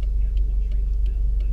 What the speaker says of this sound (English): So yeah, let's just drive around a little bit.